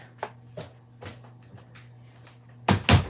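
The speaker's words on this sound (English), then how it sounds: "let me close this door" Several light knocks and bumps from a door in a home room with a makeup vanity, ending in a louder double thud as the door is shut close by.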